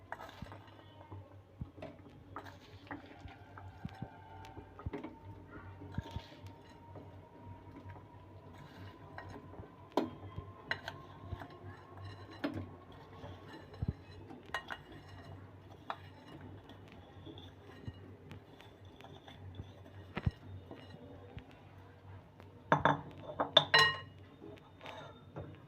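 Rice pudding sweetened with date palm jaggery being stirred in a pot over low heat: soft, irregular scraping and occasional light clinks of a spoon against the pot, quiet and close, with no talking.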